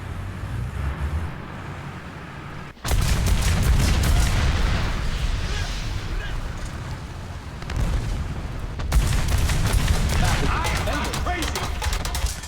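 Heavy machine gun fire and explosions in a tank combat video game erupt in loud, dense bursts, a sustained roar of rapid impacts and booms with brief lulls between.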